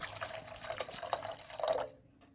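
Half a cup of apple cider vinegar pours into a bowl for homemade barbecue sauce alongside ketchup, a soft continuous trickle and splash close by that stops abruptly near the end.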